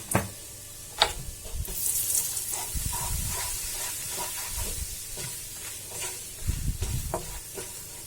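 Red chilli powder and coriander powder stirred and fried in a pan for shahi paneer, giving a steady close sizzle with scraping stir strokes recurring through, no talk.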